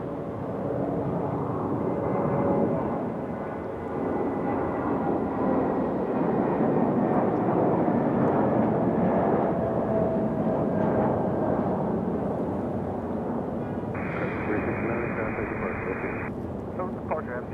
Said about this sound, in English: heading runway 23 right, clear to take off.